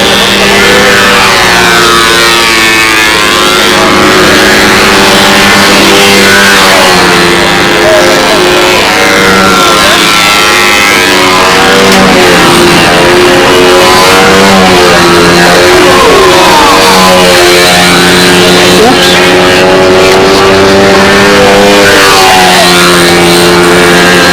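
Twin engines on a radio-controlled model airplane drone loudly and continuously at a windy park fun-fly contest, their pitch rising and falling as the plane circles, with a voice talking over them.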